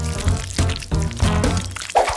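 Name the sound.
pouring liquid into a bottle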